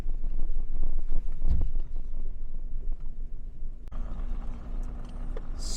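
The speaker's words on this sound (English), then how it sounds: "Super windy here." Strong wind buffets the microphone in a small Saskatchewan town, producing a heavy, uneven low rumble that surges and gusts throughout, with no talking.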